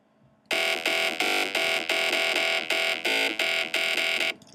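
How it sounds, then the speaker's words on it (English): A loud, buzzy electro house bass line made in Ableton plays alone in about ten short, evenly pulsing synth notes with a harsh tone and some pitch changes, then cuts off abruptly. "basically, we're going to be making a bass line, and it's going to sound like this."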